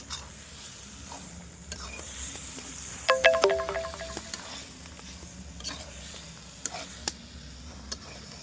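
Chicken liver and gizzard sizzle steadily in a pan with a continuous frying hiss, and a spoon or spatula stirs and scrapes through the pieces. Several louder scraping clatters come around the middle of the clip.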